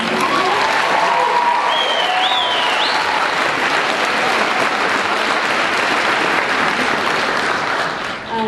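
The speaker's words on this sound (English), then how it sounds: "give it up for yourselves one more time" Loud, sustained applause from a large crowd at a college commencement ceremony, with clapping filling the whole stretch and a few whistles rising over it.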